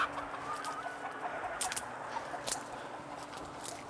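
Free-range hens on a large outdoor native-breed egg farm cluck steadily at close to middle distance, a continuous flock chatter with a few sharper calls, no talking.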